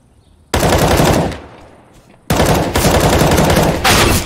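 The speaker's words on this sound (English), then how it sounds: "Where are my bullets going?" Automatic gunfire in Counter-Strike rings out in two loud, sustained bursts, the first fading after about a second and the second rattling on to the end, close and dominant.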